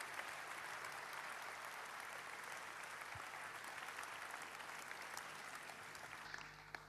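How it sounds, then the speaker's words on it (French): Political rally audience applauding at a Fabien Roussel event on feminism, a full, steady sheet of clapping from a large crowd that holds evenly before dropping off at the very end. "On peut les applaudir."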